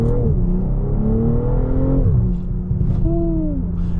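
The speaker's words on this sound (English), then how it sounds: "these stock burbles are like actually decent as hell" Stock exhaust of a BMW M340 burbling and popping with turbo whir as the car cruises, a steady loud engine drone with shifting tones, heard from inside the car during a drive.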